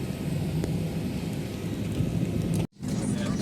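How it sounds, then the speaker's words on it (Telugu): Rain falls outside during boarding of a delayed Kuwait to Dubai flight, heard as a steady, dense hiss with a low rumble that runs throughout and drops out for a moment near the end. "అవుట్ సైడ్ రైన్ పడుతుంది"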